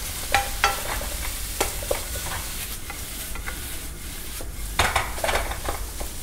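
Crab meat being stir-fried for fried rice in a hot pan, with a soft steady sizzle under repeated sharp scrapes and clacks of a utensil against the pan, close and busy.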